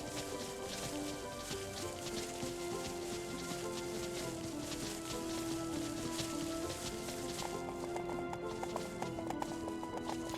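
Horse hooves clip-clop steadily in the video game The Emperor's Own as riders cross a burned landscape, a continuous mid-level rhythm mixed with ambient game sound and music.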